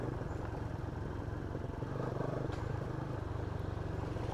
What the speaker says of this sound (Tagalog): Pakinggan nyo nga kung tumatagtag yung shock or tingnan nyo kung maganda ba talaga yung play o hindi.